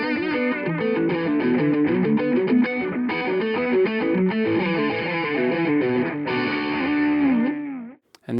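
Distorted electric guitar with delay, set to a wet/dry mix through a Two Notes Reload 2 load box. It plays a busy, continuous run of notes with echoes blending in, then pitch-bent notes fade out at the end.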